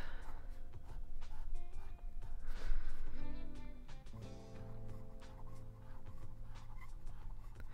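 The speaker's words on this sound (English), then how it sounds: "And you hear it has a scratchiness to it." A fine gold-plated fountain pen nib scratches across Rhodia paper in short irregular strokes, close and fairly quiet, with faint background noise throughout.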